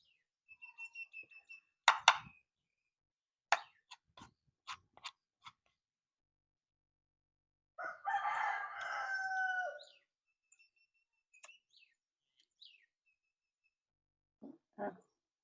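Chickens peck and cluck in short, scattered bursts, and a rooster lets out a crow of about two seconds in the middle, with quiet gaps between the sounds.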